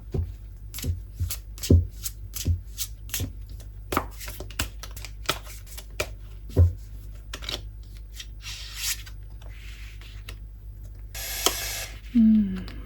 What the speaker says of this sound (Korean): 그렇다면 다른 카드 한 번 더 뽑아볼게요.